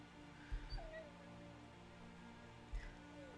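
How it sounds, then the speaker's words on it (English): An animal in the game Spirit of the North whimpers in faint, brief whines over quiet music, with a couple of soft low thumps. "Don't start whimpering on me, please."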